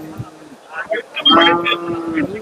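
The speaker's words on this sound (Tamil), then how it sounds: "அதே மாதிரி இங்கே ஒரு மொட்டை மாடு இருக்கு" A hornless cow lowing at a busy village cattle market, one drawn-out moo rising clearly over the background chatter of traders bargaining nearby.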